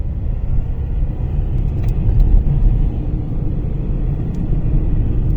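A car drives along an unlit central street in Ovidiopol at night, its engine and tyres making a steady, close low rumble throughout with no one speaking.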